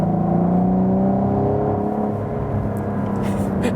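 A Cadillac ATS-V sports sedan's 470 hp 3.6 V6 rises in a smooth loud rev after a downshift to third gear, heard close from inside the cabin with a rising tonal drone.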